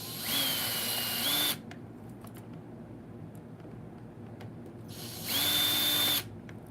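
Power screwdriver backs out Wi-Fi card screws in a laptop, two whirring bursts of about a second each separated by a quiet pause.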